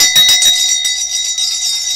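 A loud bell rings with a steady, piercing tone that holds through the whole moment, with a few rattling strikes near the start.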